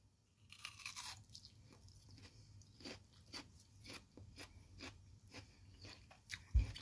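Crisp scraping crunches of a firm yacon root being peeled with a blade, close and quiet, a steady series of short rasping strokes with a louder knock at the end.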